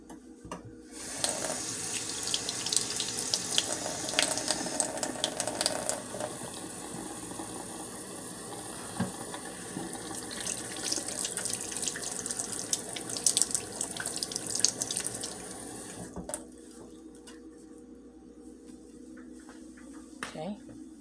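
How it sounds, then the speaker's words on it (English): Hands washed under a running sink tap, steady water stream with splashing and shifting as hands move through it for most of the stretch, close and moderate, then the flow stops near the end; a voice speaks briefly. "Let me wash my hand"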